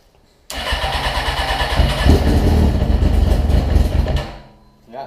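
A cold homemade side-by-side's engine cranks and catches, then runs loud and close with a rough, uneven idle for several seconds before cutting off abruptly.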